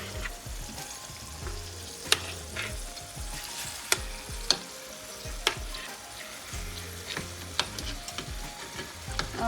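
Steady sizzling of food frying in a pan, with a few sharp clinks of a utensil scattered throughout; no voices.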